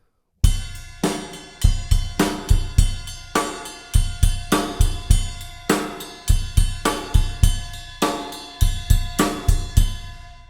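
A rock groove on a drum kit: ride cymbal bell pinging over a thumping bass drum and crisp snare rim shots on the backbeat, played alone at a steady tempo, close and punchy.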